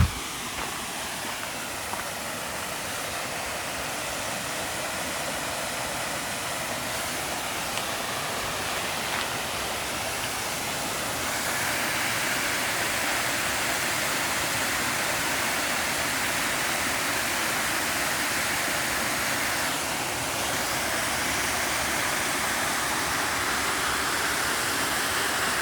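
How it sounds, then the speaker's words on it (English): A waterfall in the woods roars as a steady, dense rush of falling water, close and constant with no voices over it. "I'm just gonna show chat the waterfall again."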